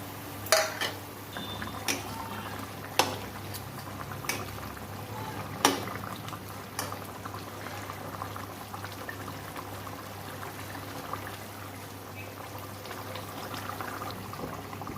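A rohu fish head and potato curry broth simmering in a pan, a low, steady bubbling broken by a few sharp clicks and pops near the start.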